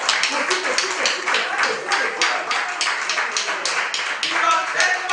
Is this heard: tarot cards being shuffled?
no